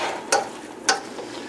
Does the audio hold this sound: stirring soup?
yes